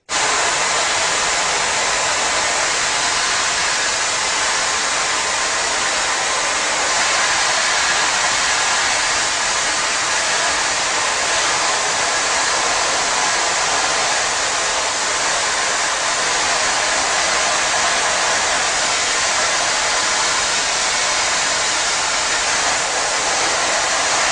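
Screen printing emulsion is washed out of a mesh screen with a spray of water. A loud, continuous, steady hiss of spray runs unbroken throughout, near and alone.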